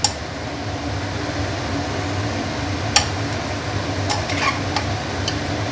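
Mutton curry in a pot being stirred after garam masala goes in, a low bubbling rumble with a few sharp clinks of a spoon against metal, over a steady background hum.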